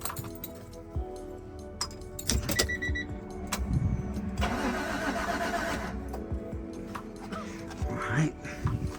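An Acura Legend under restoration cranks and fires up for its first start in months, with a brief starter whirr, the engine catching and settling into a running idle, along with key jingles and clicks while someone talks nearby.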